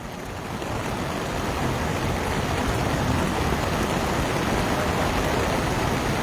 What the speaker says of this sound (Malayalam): വെള്ളത്തിന്റെ ശക്തിയായിട്ട് ഒഴുക്ക് കൂടുന്നു കേട്ടോ